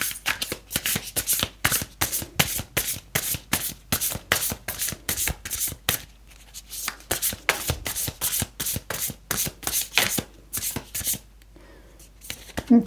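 Tarot cards are shuffled by hand in a steady stream of crisp riffling flutters and taps, close and fairly loud, with a short lull midway.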